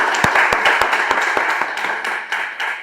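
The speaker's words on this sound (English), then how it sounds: "Give them a round of applause" Brisk hand clapping from a small audience at an impromptu speaking workshop, close and sharp at first, then thinning into a looser, softer patter over a few seconds.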